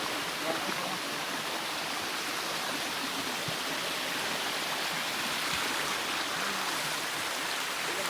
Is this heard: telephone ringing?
no